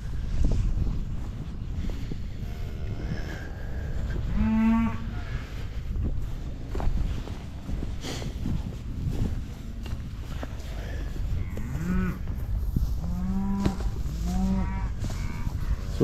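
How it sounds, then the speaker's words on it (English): Cows and calves on a farm during calving season mooing in several separate calls, some low and some higher and drawn out, over steady wind and outdoor background noise. "All cows and calves are on this side."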